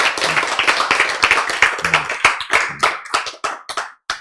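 Audience clapping at a health lecture, a burst of sharp, distinct hand claps that thins out into scattered, uneven claps toward the end, close and fairly loud.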